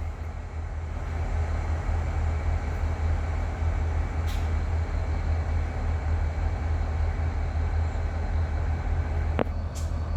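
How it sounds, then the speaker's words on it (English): A continuous loud hiss of air escaping from freight train brakes in an Australian rail yard over a low rumbling drone, steady from start to finish with a couple of brief clanks. "You can still hear the air coming out of that train there."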